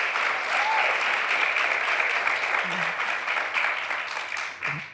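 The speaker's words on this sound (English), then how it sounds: "Let's give him a round of applause." An audience gives warm, even applause after an interview, steady clapping holding throughout with a slight tapering at the very end.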